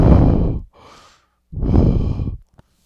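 A person imitates heavy mouth breathing: two long, loud, rasping exhales separated by a softer, breathy inhale, ending with a short click, all close to the mic with no words.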